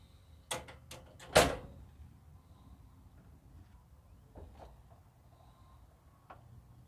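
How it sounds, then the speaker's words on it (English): A van's power-operated side door closing: two quick sharp knocks followed by a heavier thud, then a few faint clicks and latching taps, close by with no talk. "now we're gonna close the door"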